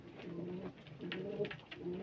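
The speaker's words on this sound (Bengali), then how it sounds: "তো পায়রা সব খাবারের জন্য সব বসে আছে" Pigeons settled while waiting for food in a dim, cold house give low, soft coos in three repeated rolling phrases, close but quiet.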